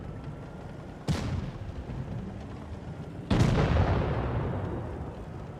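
Two heavy tank cannon blasts in a video game, each a sharp loud boom with a long rumbling decay, the second one bigger, over a steady low background of engine hum.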